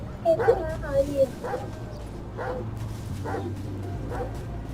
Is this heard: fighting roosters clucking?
no